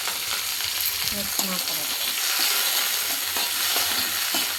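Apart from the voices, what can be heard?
frying tomato in oil for avalakki bisi bele bath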